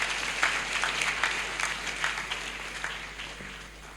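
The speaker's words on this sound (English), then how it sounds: "Shall we give them a round of applause?" Sustained clapping from a crowd at a university graduation congregation, an even patter of many hands that fades slightly toward the end.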